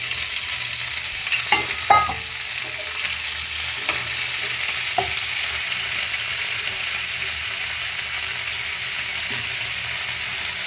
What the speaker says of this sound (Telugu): ఒక స్పూన్ ఆయిల్ అయితే వేసుకుంటున్నాను ఇదిగోండి చుక్క కూర అయితే వేస్తున్నాను